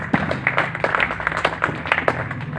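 An audience claps at an introduction in a dense patter of many hands, moderately loud and steady for a couple of seconds.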